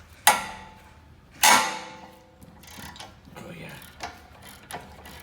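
Ratchet with a long extension working the 19 mm caliper bracket bolts on a 2007-2011 Honda CR-V during a brake overhaul: two sharp metallic cracks as the bolts break loose, then softer clicking and clunks, close up, with a brief spoken word.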